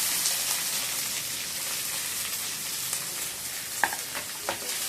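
Onions with green chillies and ginger sizzle steadily in a pan for a curry, a soft continuous frying crackle with a couple of light utensil taps toward the end.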